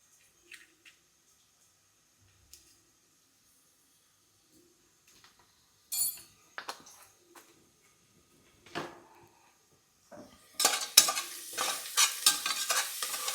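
Onions and peanuts sauté with asafoetida; a mostly quiet start with a few isolated clinks and scrapes gives way to a loud, building sizzle and rapid stirring near the end.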